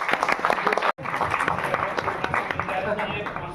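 Audience applause at a stage event where YouTubers are introduced, a dense spread of clapping that cuts out for an instant near one second and then resumes, with voices talking over it.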